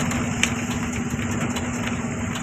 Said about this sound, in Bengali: ভালো করে দেখলে বুঝতে পারবে এটা একটা স্কুটির ইঞ্জিন